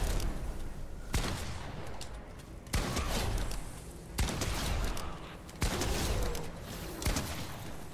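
Explosions in Fortnite Save the World gameplay, a series of loud broadband blasts about every one to two seconds, each with a sharp onset and a brief rumbling tail over continuous game noise.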